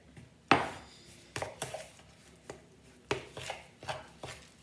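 A knife stirs rock bun dough in a mixing bowl, scraping from the centre to draw in the flour, giving several sharp taps and scrapes against the bowl in an irregular rhythm, close and fairly quiet.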